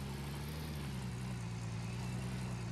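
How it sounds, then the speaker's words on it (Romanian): A vehicle engine idles in the Gold Mining Simulator video game, a steady, loud, low mechanical hum with an even drone throughout and no other sounds. "Și greu pornește motorul."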